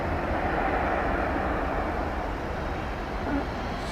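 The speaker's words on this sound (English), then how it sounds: "And that plane coming in on runway 18 right." An American Airlines Airbus A321 comes in to land on runway 18 right at Dallas Fort Worth airport, a steady broad roar of jet engine noise holding at constant loudness throughout.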